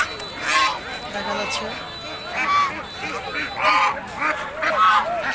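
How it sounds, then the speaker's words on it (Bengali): Several geese honk repeatedly in loud, nasal bursts close by at a livestock market, while a person talks over the busy, noisy surroundings. "বড় বড় রাজহাঁস"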